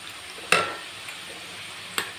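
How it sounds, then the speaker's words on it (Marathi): Cabbage stir-frying in oil, a quiet soft sizzle with two sharp scrapes of a spatula against the pan. "आता कोबी पण आपला छान तेलामध्ये परतवला गेला आहे।"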